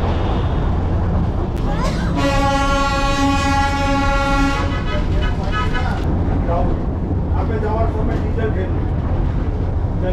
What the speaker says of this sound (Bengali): রাস্তার মাঝখান দিয়ে এপাশ ওপাশ একা বেঁকা করে এই টয় ট্রেনটা আগিয়ে যাচ্ছে সামনের দিকে